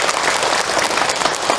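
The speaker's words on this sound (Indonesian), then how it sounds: "Tepuk tangan untuk Kak Hilman" Brief burst of audience clapping for Ustaz Hilman after his religious talk, dense and steady throughout.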